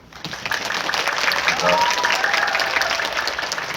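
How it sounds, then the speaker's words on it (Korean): A cinema audience at CGV Apgujeong claps together in sustained applause that swells and fills the room, with speech under it. "박수 한번."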